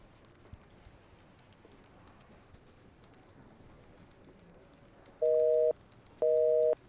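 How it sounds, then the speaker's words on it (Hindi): Two loud, steady tone bursts of a telephone busy signal come after several seconds of quiet room hiss, each about half a second long with a short gap between them. "नंबर बिजी मिल रहा है"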